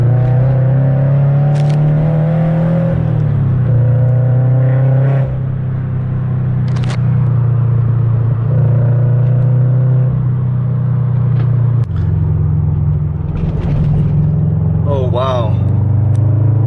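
Subaru BRZ with a new Exedy Stage 1 clutch driving, a steady low engine drone with gear-change dips, heard under someone talking throughout.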